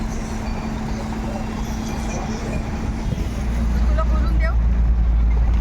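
A car drives along a road with a constant engine and tire rumble, which grows deeper and louder near the end. Faint background noise underneath.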